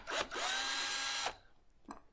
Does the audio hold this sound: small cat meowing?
no